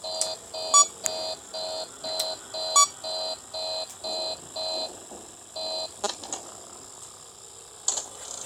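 A ventilation error alarm in the video game Five Nights at Freddy's 3 sounds as a steady series of regular electronic beeps, about one per second, with a few sharper clicks and a mechanical rattle near the end.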